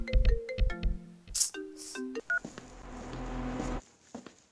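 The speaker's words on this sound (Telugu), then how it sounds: "మా డాడ్ నుంచి ఫోన్ వస్తుందిరా" A mobile phone announcing an incoming call, with a short run of electronic tones and chimes followed by a sustained ringing melody that then stops.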